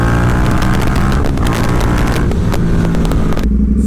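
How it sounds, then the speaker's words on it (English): Indian FTR 1200 V-twin motorcycle with a full Toce exhaust and tune, pulling hard from a standstill; a loud, close, continuous roar climbing through the revs, alone with no talk. "Full Toce exhaust"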